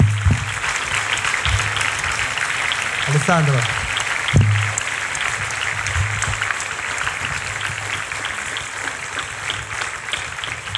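Audience clapping for actor Alessandro Borghi at a film discussion, a broad wash of applause running under a speaker's voice throughout.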